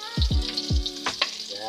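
Garlic frying in a pan for chicken adobo sizzles steadily, with a few sharp, close thumps as it hits the oil or is stirred.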